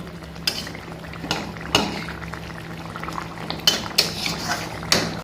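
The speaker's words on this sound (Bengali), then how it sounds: "মধ্যে জল দিয়ে এবার মাছটা নাড়িয়ে চাড়িয়ে দিচ্ছি" A utensil scrapes and clacks against a pan while katla fish curry with added water is stirred, giving irregular, close metallic knocks over a low simmering bubble, with no talking.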